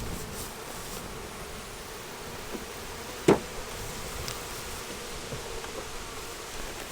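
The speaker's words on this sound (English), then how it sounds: "We'll try to get all the bees off the can." Honey bees hum faintly and continuously around heavy honey frames pulled from a hive, a soft, steady buzz broken once by a sharp knock.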